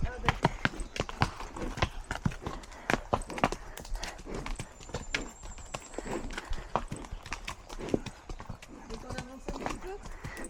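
Pony hooves clip-clopping on a ride, a brisk, uneven run of sharp hoof strikes close by, with a brief whinny-like sound and talk around it.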